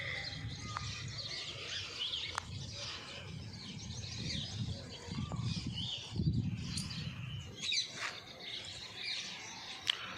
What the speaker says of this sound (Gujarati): ચકલા જો તમે અવાજ કરે છે ચી ચી ચી